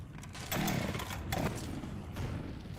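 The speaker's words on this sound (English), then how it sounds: "Chainsaw?" A chainsaw in Left 4 Dead 2 roars steadily and loudly throughout, its buzzing engine surging in a couple of louder pulses amid gameplay noise.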